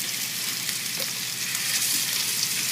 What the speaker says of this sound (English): enough so that you have that sizzle when you put the meat in.